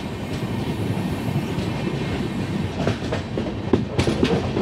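Passenger express train running on the rails after leaving a station platform in Telangana, heard from inside as a continuous loud rumble with rhythmic clickety-clack wheel beats growing clearer toward the end, no voices.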